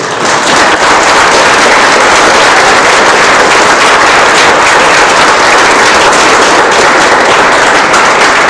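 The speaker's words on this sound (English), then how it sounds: "round of applause for Julia" Loud, sustained audience applause at a student leadership awards ceremony for a climbing honoree, a dense roar of many hands clapping close by, steady throughout with no speech over it.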